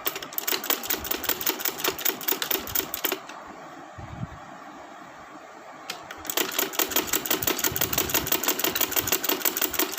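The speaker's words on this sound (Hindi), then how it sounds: "ये मैंने यहाँ से सिलाई लगा ली है।" A sewing machine stitches lace onto a sleeve, running in fast even bursts of rapid mechanical clatter, pausing for a few seconds midway before resuming at full pace.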